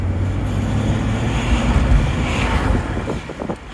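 A BMW car with a non-petrol powertrain runs steadily, giving a continuous low droning hum with wind-like rush that sounds like a bus, sustained and fairly loud throughout.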